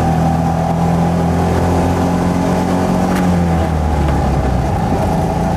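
The small engine of a Trojan 200 Heinkel Kabine bubble car drones loud and steady from inside the cabin, its pitch rising and then dropping near the end at a gear change.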